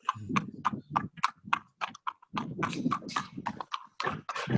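Racehorse hooves clop on a hard surface in a steady walking rhythm, close and clear, with regular sharp strikes and brief pauses.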